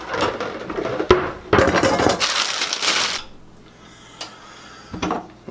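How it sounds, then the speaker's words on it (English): Ceramic and metal kitchen clatter as a bowl is pulled out and set down, with a dense rattling burst of dishes knocking together followed by a few sharper isolated clinks on a quieter background. "Get a bowl out real quick."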